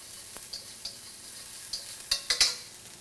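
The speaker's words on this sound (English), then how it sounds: "So I'll add a little bit of shallots and garlic" Shallots and garlic hitting hot oil over medium-high heat, a soft steady sizzle broken by several sharp spatter pops and scrapes, the loudest crackles bunched toward the end.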